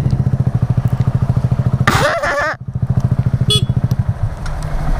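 Loud motorcycle engine idling with a pulsing, lumpy throb close by, briefly revving and clattering as a stoppy attempt fails on a slick wheel, then settling back to its steady idle.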